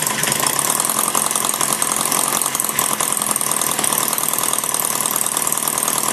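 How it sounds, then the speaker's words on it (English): A Maier TA4 four-cylinder engine idles low and even, with a dense, steady mechanical clatter firing on every cylinder, loud and close with no talk. "It's a nice little idle there. You know it's running real, firing every time when you can get it to idle that low."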